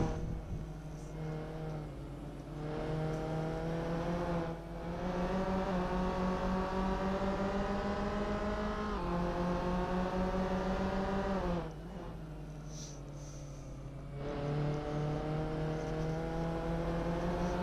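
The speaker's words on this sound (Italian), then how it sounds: "sentiamo il rombo di questa Clio Cup" A Renault Clio Cup race car's engine roars steadily in Assetto Corsa at Vallelunga, heard on board with rising pitch through the gears, brief dips at the shifts and a drop in revs under braking.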